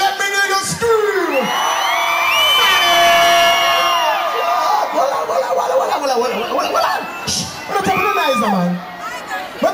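A large concert crowd at a show screams, whoops and cheers loudly for several seconds, with high shrieks rising and falling in waves before easing off.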